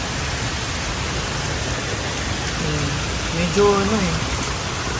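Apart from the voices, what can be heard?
strong wind and rain during a typhoon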